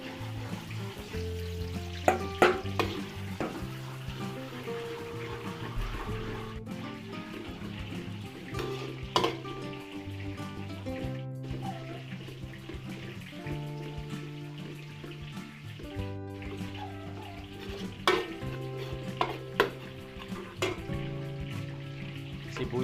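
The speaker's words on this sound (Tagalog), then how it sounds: "Lagyan tayo mantika. Gisa na tayo ng bawang." Garlic sautéing in cooking oil in a pan for Filipino pancit, a soft, steady sizzle under clinking utensils and occasional sharp knocks and scrapes of kitchen activity.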